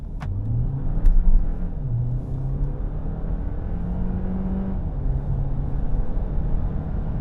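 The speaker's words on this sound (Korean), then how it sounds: "자, 간단히 가속 성능 볼까요?" A 2023 Hyundai Grandeur hybrid accelerates hard from a standstill, its engine note climbing through rising gear pulls as a steady cabin rumble and road noise build, heard from inside with no talking.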